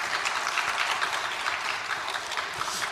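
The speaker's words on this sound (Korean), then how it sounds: "다시 한번 박수를 부탁드립니다" An audience at a Korean church lecture claps steadily for a few seconds, a dense patter of applause at moderate distance with no talking.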